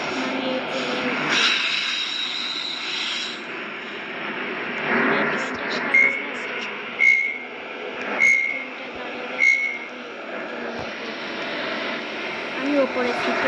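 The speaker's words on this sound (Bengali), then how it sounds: "এখন আরেকটা ট্রেন এসে গেছে" A train arrives in the Roblox video game with a low rumbling drone and a few short, repeated tonal beeps in the middle, under steady background noise.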